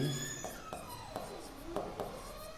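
Chalk or marker writing on a board while a numerical problem is worked, giving faint scratchy strokes and soft taps in short bursts, close and quiet, with no talking.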